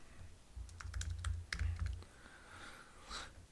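Fingers typing on a computer keyboard, a quiet run of quick clicking keystrokes in short bursts with brief pauses, heard alone without talk.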